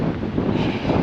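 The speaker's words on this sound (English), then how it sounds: "wind's getting a bit icy" Steady wind roars across an open mountain valley on the Torres del Paine W Trek in Patagonia, a continuous close buffeting rush against the microphone with no break.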